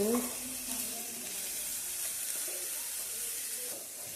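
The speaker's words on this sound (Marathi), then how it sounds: "मीठ आपण असं भाजून घ्यायचं त्याच्यामध्ये जवळच एक वेलची घालून घेतो" Salt dry-roasting in a pan with a cardamom pod gives a steady, even hiss with faint scraping near the start, close and moderately loud, with no talking.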